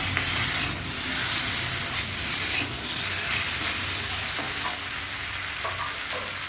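Mixed vegetables and fried bitter gourd for a Bengali shukto sizzle in a pan as they are stirred, a continuous close frying hiss with occasional soft scrapes and taps of the spoon and no voices.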